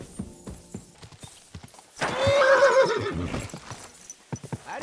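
Horses whinny loudly in the video game Kingdom Come: Deliverance 2, one long neigh in the middle, with hooves clip-clopping before and after and a brief voice exclamation at the start.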